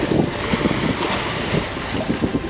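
A sailboat glides over open water in calm morning conditions, with a continuous wash of water and wind noise on the microphone and soft splashing pulses against the hull, steady and moderately loud.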